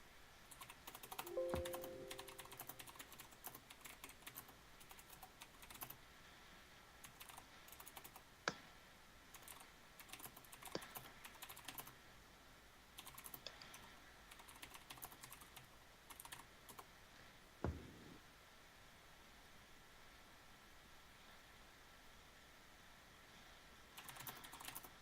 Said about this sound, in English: Vigorous typing.